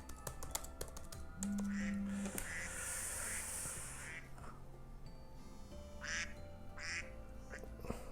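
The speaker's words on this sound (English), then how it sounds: "The dreaded sound of the ducks." Computer keyboard typing clicks away steadily while a duck-quack sound effect goes off several times, faint and close, with no one talking.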